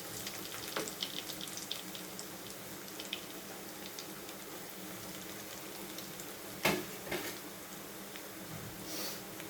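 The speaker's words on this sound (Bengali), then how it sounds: "চুলার আগুনটা কমিয়ে দিয়ে লাল করে ভেজে নেব" Potato, carrot and paneer kebabs fry in oil over a low flame, giving a steady soft sizzle and hiss with a few brief clatters as the pieces are turned.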